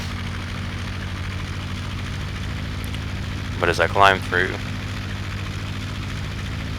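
A Ki-43 fighter's engine drones as a steady low hum while the plane climbs in the Aces High 2 flight game, with someone briefly talking over the middle of it.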